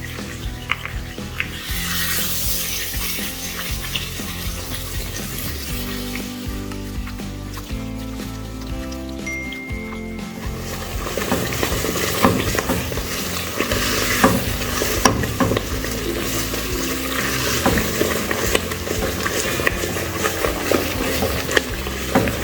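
A spoon keeps stirring bread halwa as it fries in ghee in a stainless steel pot, giving continuous scraping and sizzling with frequent clinks, louder and busier in the second half.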